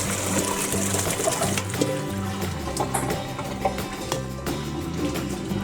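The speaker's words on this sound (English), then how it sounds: "so we'll go ahead and drain this." Water drains from a kitchen sink in a steady gurgling, trickling flow with a low hum underneath, close and continuous for several seconds, with no talking.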